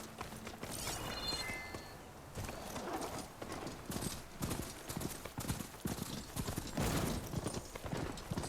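Hoofbeats of a horse mount from Horizon Forbidden West clip-clop steadily at close range, with game music and effects in the background and no talk.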